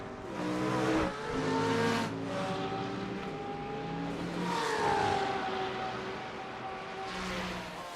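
A McLaren GT race car in a sim racing game, engine notes rising and falling as it accelerates and shifts, with other cars passing at moderate distance and a faint tire squeal.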